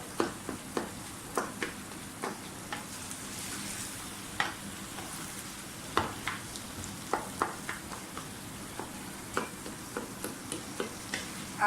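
Ghia gosht curry being stirred and mashed in an oiled pan: a soft continuous sizzle punctuated by regular spoon taps and scrapes against the pan, close and fairly quiet.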